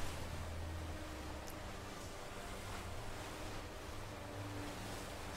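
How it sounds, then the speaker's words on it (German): Ocean waves from a video game roll as a faint, steady wash of surf noise, continuous and even throughout, with no voices. "wie nervig dieses Wellengeräusch werden kann."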